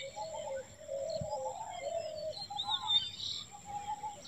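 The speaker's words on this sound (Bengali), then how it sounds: "পিসফুল অ্যাম্বিয়েন্স ফিল করতে, পাখিদের কোলাহলে" Birds chatter softly on an evening at the Dhupjhora elephant camp, with gentle dove-like cooing, scattered high chirps and tweets spread over a quiet, continuous outdoor background.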